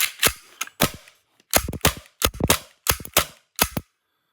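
Tokyo Marui Glock 17 airsoft pistol with a steel slide and an extended VFC magazine firing about a dozen sharp, loud shots, singly and in quick pairs and triples, with brief pauses between bursts.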